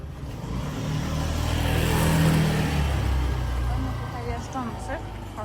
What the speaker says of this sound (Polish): Kolejny motor, odsuń się.